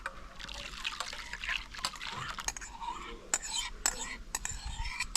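Banana batter for kaipola poured into hot ghee, a soft liquid trickle with faint sizzle and light utensil clinks, close and quiet with a few sharp taps toward the end.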